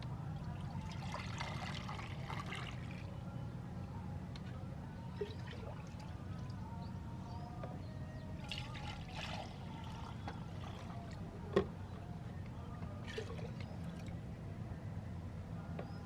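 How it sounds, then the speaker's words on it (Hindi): Water mixed with liquid fertilizer poured steadily onto vegetable plants from a bucket, a continuous close trickling and splashing flow with no talk over it. "पानी डाल देना है, और इसके अंदर भी हम लिक्विड फर्टिलाइज़र की बात कर रहे हैं"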